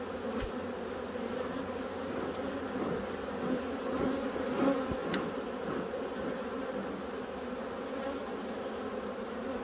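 A dense swarm of honey bees buzzes steadily around a hive, a continuous droning hum that persists throughout at a fairly constant level, with a few louder passes of individual bees close to the microphone.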